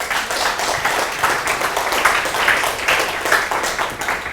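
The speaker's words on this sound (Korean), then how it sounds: "우리 열심히 살겠다는 박수 한번 칩시다" Lecture audience at a talk for the Ulsan Metropolitan City facilities management corporation bursting into sustained applause, a dense, even clatter of many hands that holds steady for several seconds without a voice over it.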